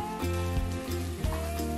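Stuffed okra (bharwa bhindi) fries in a pan with a steady close sizzle, and a few stirring knocks come through over a constant musical background.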